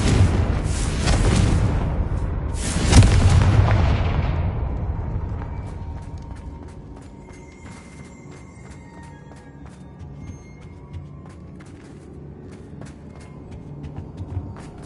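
Confringo blasting spell explosions in the video game Hogwarts Legacy, two heavy booming blasts close together at the start, followed by a long rumbling decay with scattered debris clicks.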